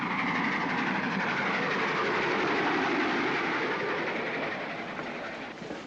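Train running on rails, a steady broadband rumble and rattle of carriages that stays loud and continuous throughout, easing slightly near the end, with no voices.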